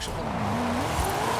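Tires squeal as a car drifts around a roundabout in Forza Horizon 5. A 1000 hp engine howls steadily under the sustained rising screech.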